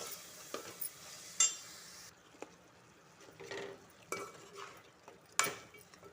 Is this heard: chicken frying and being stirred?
yes